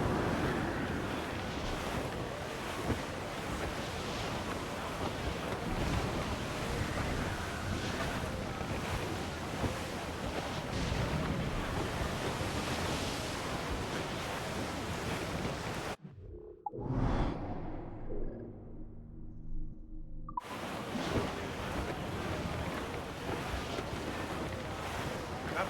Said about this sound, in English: The wind is picking up nasty!